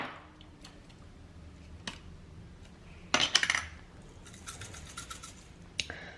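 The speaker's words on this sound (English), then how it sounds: "Now you should mix it all properly." A spoon stirs chana dal vada batter with salt in a bowl, close and quiet, giving scattered scrapes and clinks against the bowl, with a brief louder burst of clattering in the middle and a few sharp taps near the end.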